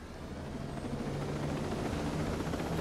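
Helicopter in the video game Ghost Recon Breakpoint, a steady rotor drone with low thumping, moderately quiet and continuous with no speech.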